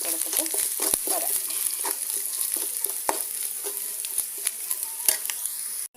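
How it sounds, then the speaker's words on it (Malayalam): Grated coconut and curry leaves roast in a hot pan, a steady bright sizzle under repeated scraping strokes of a spoon, close and continuous until a sudden stop. "നമ്മുടെ തേങ്ങയൊക്കെ നന്നായിട്ട് റോസ്റ്റായി വന്നിട്ടുണ്ട്"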